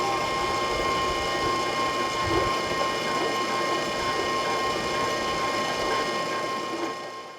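A Force mechanical seed drill runs steadily during calibration, a continuous whirring, clattering mechanism with ticking gears and a faint steady tone. It stays close and even throughout, then eases slightly at the end.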